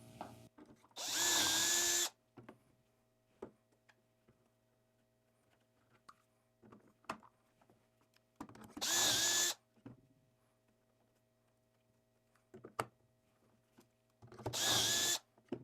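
Power drill boring 12mm dowel holes through a cheap doweling jig into wood, three short loud whirring bursts separated by quiet gaps with faint handling clicks.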